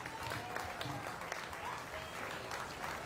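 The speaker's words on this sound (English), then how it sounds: "Let's give them a big round of applause." Audience at a county fair swine show clapping, a continuous patter of applause from a crowd, faint and somewhat distant, with murmured voices underneath.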